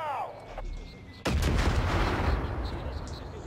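A bomb blast destroys a supply vehicle in Far Cry 5: a sudden loud explosion hits partway through and leaves a long rumbling roar and crackle, after a quieter stretch of game background noise.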